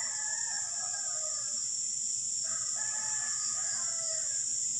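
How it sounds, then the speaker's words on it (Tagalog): Several roosters crow at a distance near an abandoned house, faint calls rising over steady insect-like hiss and background noise. "napapansin nyo, guys, marami nang tumitilaok na manok."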